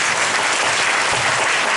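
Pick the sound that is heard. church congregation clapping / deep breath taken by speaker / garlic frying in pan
church congregation clapping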